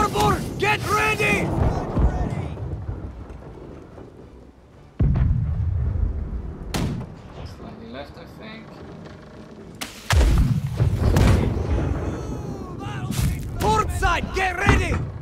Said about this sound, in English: Sound the cannons!